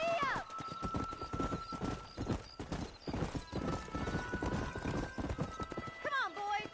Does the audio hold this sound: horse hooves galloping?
yes